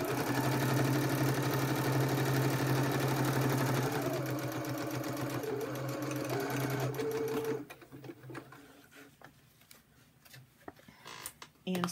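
Sewing machine stitching the pocket of an ephemera folio with document protectors: a steady, close motor drone with rapid needle chatter for about seven seconds, then stopping, followed by scattered handling clicks and rustles.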